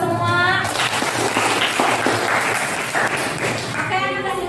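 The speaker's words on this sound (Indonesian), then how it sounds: "Sekali lagi tepuk tangan untuk kita semua." A classroom of students claps for the class, a broad mass of clapping running under a teacher's voice that talks over it at the start and end.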